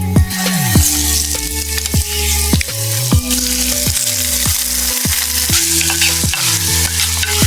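Squid curry frying in a pan as green chilies go in, a steady loud sizzle with scraping stir strokes recurring throughout.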